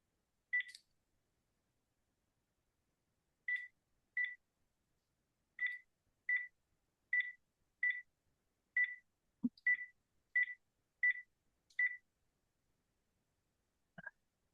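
Touch-tone beeps from a home landline being dialed sound in a quick sequence of about a dozen short, evenly spaced tones in a quiet room, with a faint click midway and a brief low sound at the end.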